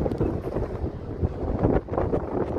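Strong wind buffets the microphone at a ro-ro passenger terminal in Rønne, Bornholm, with a loud, continuous roar and gusty rumbles, no voices heard.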